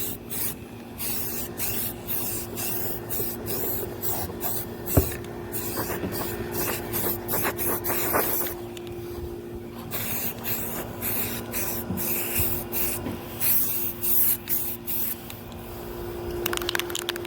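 Continuous hissing spray paint bursts on a 2003 Honda Pilot fender outdoors, repeated short and longer sprays with brief pauses, close and fairly steady.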